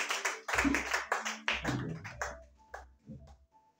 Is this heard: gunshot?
no